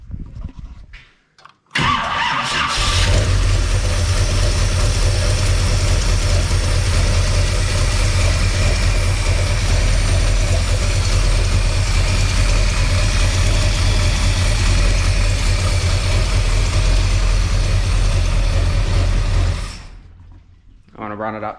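A 1946 Chevrolet hot rod truck engine, just after valve preload adjustment, starts and runs at a steady, loud idle for about eighteen seconds, then shuts off, heard up close.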